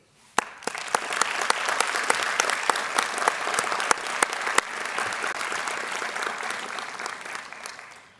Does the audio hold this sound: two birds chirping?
no